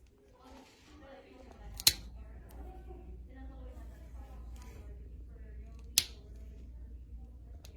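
Clippers snip a dog's nail twice, two sharp isolated clicks a few seconds apart, close and crisp over quiet room tone with faint speech in the background.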